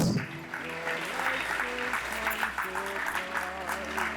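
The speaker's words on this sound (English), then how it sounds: "clap like you have hands." An audience at a school's 116th anniversary homecoming claps steadily and rhythmically, sustained applause running under a musical backing with a sung or chanted melody throughout.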